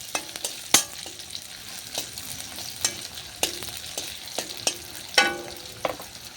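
Onions and curry leaves with a little salt frying in oil for an egg tomato curry, with a steady soft sizzle broken by sharp clicks and scrapes of a spoon stirring the pan, close and moderately quiet.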